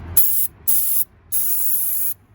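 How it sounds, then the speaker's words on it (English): An aerosol can of Freeze Off penetrating oil sprays onto a Ford F-250 radiator area in three sharp hissing bursts, the last one longest, close by with no speech. "let's go ahead and spray our freeze off"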